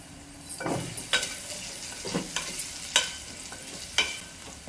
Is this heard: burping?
no